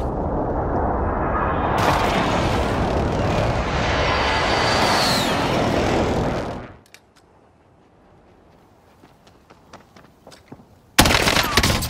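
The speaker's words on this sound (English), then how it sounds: "Precision airstrike, take cover!" In a video game set in a forest, a precision airstrike lands as a sustained roar of heavy, dense explosions lasting several seconds. A quieter stretch of scattered crackles follows, then a sudden loud burst returns.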